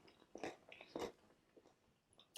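Close, quiet crunchy chewing of air-fried fish coated in crushed chips, with a few crisp bites spaced irregularly, no talking.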